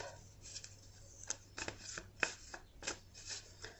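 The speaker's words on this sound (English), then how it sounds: "So I'm going to give a couple shuffles, and then I'm just going to pull off the top." Tarot cards being shuffled by hand, a series of soft riffling bursts and flicks with short pauses between, close and quiet in an otherwise still room.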